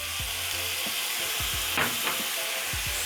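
Tomatoes fry with onions in a pot while being stirred for a coconut cream green gram dish, a loud, steady sizzle broken by repeated rhythmic scraping strokes of the spoon.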